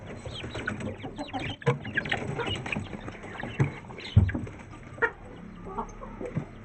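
A hen and chicks cluck and peep close by amid a busy rustle and scuffling, with a few louder thumps scattered through.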